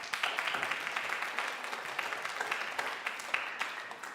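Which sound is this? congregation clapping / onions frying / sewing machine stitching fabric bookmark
congregation clapping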